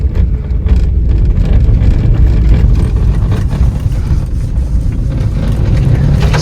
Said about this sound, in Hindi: चढ़ ही नहीं रही गाड़ी भाई, दिक्कत कर रही है छोटी गाड़ी